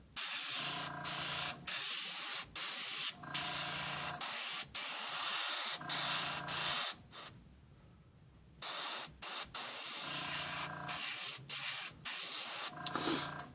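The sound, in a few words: airbrush spraying paint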